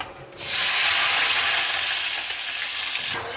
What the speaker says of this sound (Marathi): आता आपला टाकायचा एक कांदा